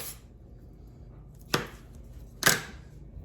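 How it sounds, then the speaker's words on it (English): A knife dicing andouille chicken sausage on a cutting board, two sharp separate chops in a quiet kitchen, with no talking. "dice the chicken sausage."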